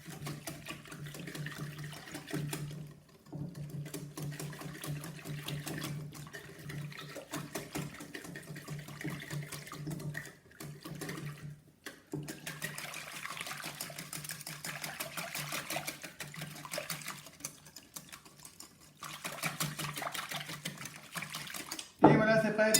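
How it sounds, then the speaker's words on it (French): A whisk beating a very liquid socca batter in a bowl, heard close up as a steady, rapid, rhythmic swishing that goes on for a long stretch with brief pauses, with speech over it. "vous fouettez tout ça avec le fouet jusqu'à obtenir une pâte très liquide"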